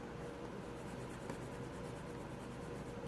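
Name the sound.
writing on a board while explaining code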